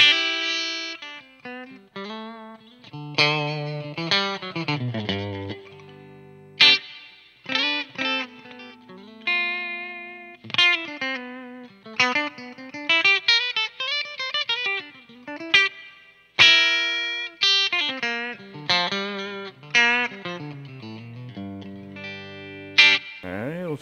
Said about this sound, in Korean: 그다음에 리어 픽업 소리.